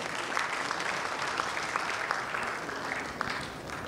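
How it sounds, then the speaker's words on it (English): An audience at a plenary session of a scientific conference claps steadily and warmly throughout, a dense wash of applause from many hands with no clear voices. "Can we have a huge round of applause, ladies and gentlemen?"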